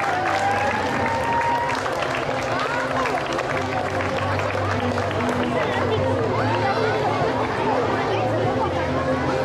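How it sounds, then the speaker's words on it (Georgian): An audience at the Lazika 2025 Colchian-Laz folk song and dance festival applauds a choreographic ensemble with a dense, continuous wash of clapping mixed with crowd murmur and voices, loud and sustained throughout. "ტაში."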